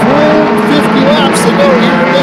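Mini stock race cars racing in a 26-car field at Flamboro Speedway, engines droning and whining loudly with pitch sweeps as cars pass, under continuous race commentary.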